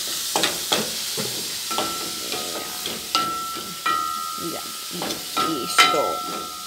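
Refrito of onion, achiote and garlic salt stirred and frying in a pan, a steady sizzle broken by repeated scraping strokes of the spoon, close and fairly loud.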